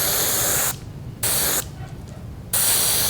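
Paint sprayed at low pressure through mesh onto a crappie-pattern lure, in three steady hissing bursts separated by short pauses, close and fairly loud.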